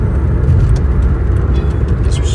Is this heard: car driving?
yes